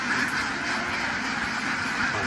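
Farm ducks quack in a short burst, with a few nasal calls overlapping at moderate volume against a steady outdoor background.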